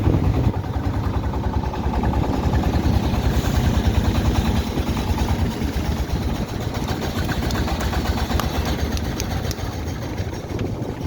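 A small boat's engine chugs steadily at a moderate distance on the Meghna river near Ashuganj and Bhairab, a continuous idling-like throb with no voices.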